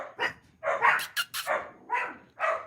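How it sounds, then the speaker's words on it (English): A puppy barks repeatedly nearby, a run of sharp, high yips and short barks in quick succession, clear and loud with no talking over them. "Ooh, you hear the puppy?"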